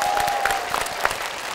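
Studio audience clapping on the Vietnamese picture-puzzle game show Đuổi Hình Bắt Chữ, brisk, scattered hand claps over a held electronic tone, fairly loud and close.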